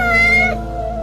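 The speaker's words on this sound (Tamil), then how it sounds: "பூனையா?" A cat meows once, a clear tonal cry with a rising then falling pitch, loud and close against a steady low background hum with no one talking.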